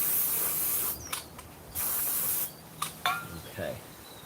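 Several short hissing bursts of an aerosol spray cleaning the spark plug area of a 1998–2011 Ford Crown Victoria, each lasting under a second, with quieter gaps between them, close by.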